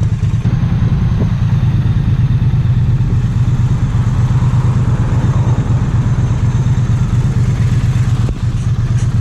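A 2019 Triumph Street Twin motorcycle riding through town, its engine a loud, steady, rumbling drone that holds the whole way through, with no talking.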